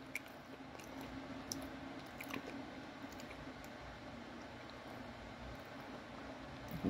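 Close, quiet chewing of a Paleta Payaso chocolate-covered marshmallow candy with sugar candies on top, soft squishy bites repeating steadily with no talking.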